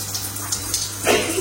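Water runs steadily from an apartment shower faucet with an even close hiss, swelling slightly near the end.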